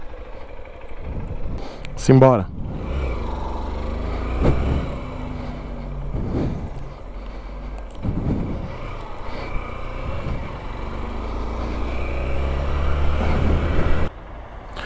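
A 2014 Honda Bros 150 motorcycle pulls away on a test ride, its single-cylinder engine rumbling low and steady close by as it builds revs, with someone speaking briefly over it near the start.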